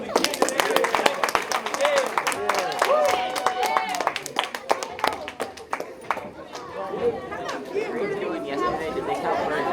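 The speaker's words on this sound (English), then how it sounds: "Let's do one last round of applause for the candidates." A high school government class claps for visiting candidates: a burst of dense, close clapping mixed with student chatter that thins out into talk toward the end.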